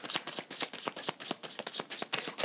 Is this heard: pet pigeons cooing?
no